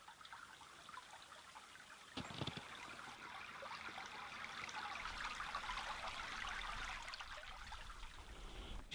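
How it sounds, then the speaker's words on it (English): A winter stream on a snowy lakeshore trail trickles and flows in a soft, steady babble, faint and close, with a brief knock partway through. "It's flowing water."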